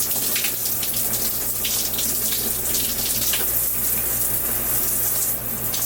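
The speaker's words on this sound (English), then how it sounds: "Let me try the shower again now." Water gushes steadily from a shower tap inside a converted car hauler RV bus, a continuous close hiss with a low hum beneath and no talk.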